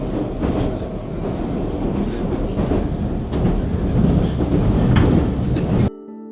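A Moscow Metro train runs underground with a loud, steady rumble of wheels and a faint clickety-clack, sustained for about six seconds before cutting off abruptly near the end.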